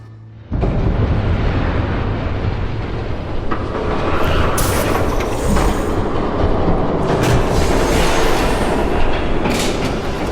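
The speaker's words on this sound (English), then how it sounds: "There's a train coming." A train approaches and rumbles past, loud and continuous for about ten seconds, with clattering wheels and occasional high metallic squeals over a heavy low roar.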